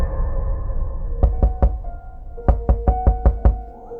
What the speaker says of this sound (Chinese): 清早我被一阵敲门声吵醒